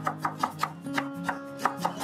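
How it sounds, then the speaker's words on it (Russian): A knife finely chopping dill on a board, about a dozen quick, even taps in a steady rhythm, close and alone. "Мелко порежу укроп."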